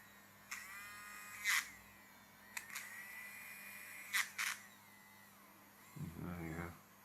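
A small electric motor in a toy-grade RC car spins with a loose pinion gear, giving faint high-pitched whines in short bursts with clicks, and a brief voice near the end.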